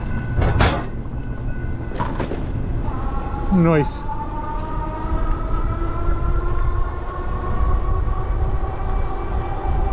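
A train rolling past on a rail line, steady rumbling with squealing, tonal screeches and clanks, loud and close; a person speaks briefly.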